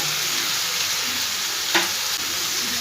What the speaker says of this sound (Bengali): খুব ভালো করে সব সবজির সাথে এটা মিশিয়ে নেব